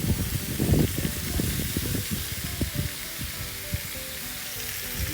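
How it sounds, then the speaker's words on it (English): Carne asada meat sizzles and crackles steadily on a hot grill, a continuous frying hiss with scattered pops and spatters, close up and with no voices. "You can hear the grilling, the sizzle of it."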